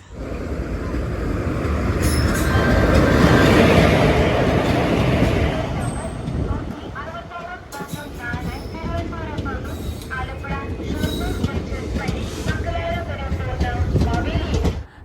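A crowded passenger train rumbles loudly for several seconds, with a brief high squeal, then fades into platform noise with people talking over it.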